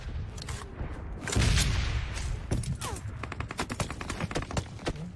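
UMP submachine gun fire in PUBG on the Miramar map: loud rapid bursts of shots, with a dense crackling volley early on and quick rhythmic strings of rounds later, close and dominant.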